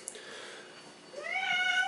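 A cat meows in a single drawn-out, rising cry near the end, after a soft rustle and a brief faint chirp at the start; no one speaks.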